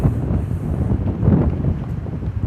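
Gusty outdoor wind in Rybnik, Poland buffeting the microphone, producing low, rumbling blasts that rise and fall continuously with no voices.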